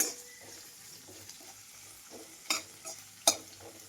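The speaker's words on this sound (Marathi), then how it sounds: "परतून द्यायचं लसूण आणि अद्रकला चांगलं लाल होऊ द्यायचं." Garlic and ginger sautéing in a pan for soya chilli, with a quiet frying sizzle, soft stirring scrapes and a few sharp utensil clinks near the end.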